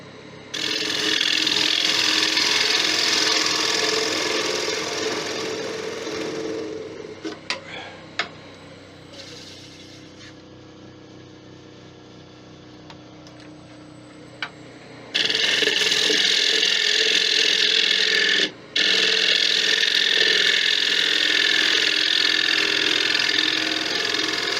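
Wood being cut on a woodturning lathe, a loud steady whirring and scraping that drops away to a quieter running hum in the middle before the loud cutting resumes, with no talk.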